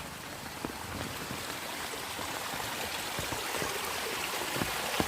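Water flowing steadily like a small stream, a soft continuous rushing with light splashes and drips, fairly quiet and alone.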